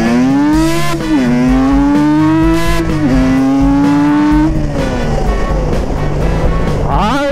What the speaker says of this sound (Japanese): 思いっきり回した時の加速はすごいっすよ